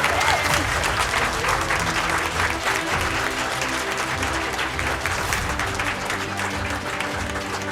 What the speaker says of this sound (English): A big round of applause. Please don't stop clapping.